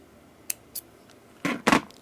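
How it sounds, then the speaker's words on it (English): Scissors snipping the thread on a handmade bead necklace, two faint light clicks followed by two louder, close crisp cuts near the end, with no talking. "And now I will cut the thread"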